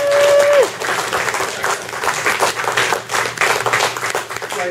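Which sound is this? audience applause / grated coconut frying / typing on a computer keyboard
audience applause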